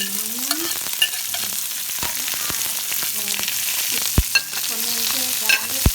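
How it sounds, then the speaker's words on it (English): Catfish pieces frying in a pan for a Trinidadian stew, a steady crackling sizzle broken by sharp clinks of a utensil stirring against the pan, with a few faint tonal kitchen sounds over the hiss. "Finish frying the fish"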